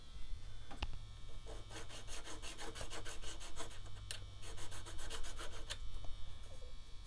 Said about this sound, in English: what file do I want? Oh, by the way, jeweler's file set.